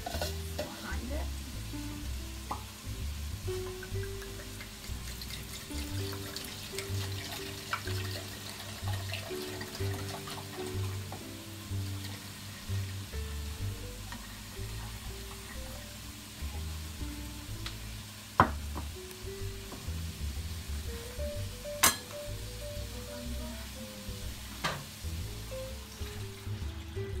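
Red wine and balsamic vinegar reducing in a pan for beef Wellington sauce, giving a steady low sizzle and bubbling with occasional stirring, under quiet background music.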